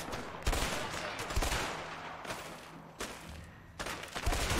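Shotgun fire in the video game A Way Out: roughly six loud, booming blasts at uneven intervals, each with a short rumbling tail, over a steady low background.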